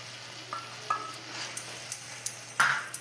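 Masala sizzles steadily in a pan for a Bengali chicken curry as split curd goes in, with repeated scraping stirs and light utensil clinks over the continuous frying hiss.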